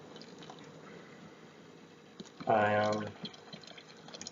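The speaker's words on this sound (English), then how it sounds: "So I'm going to add the water." Hot water from a freshly boiled jug poured into a pot of eggs being prepared for boiling, a brief bubbling gush lasting about half a second amid quiet kitchen background, with a voice speaking nearby.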